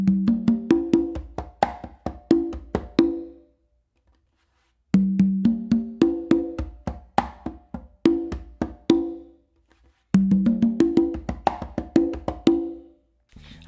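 Solo conga funk groove, near and fairly loud, with quick soft ghost taps, bright open tones and low bass-finger strokes cycling in three dense phrases separated by brief silences.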